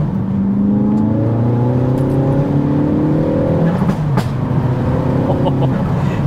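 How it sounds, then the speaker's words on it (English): A tuned 380 bhp Mk4 Ford Focus ST engine roars loudly and continuously, its pitch climbing and dropping as it revs through gear changes, with occasional sharp exhaust pops. "it makes your exhaust sound good"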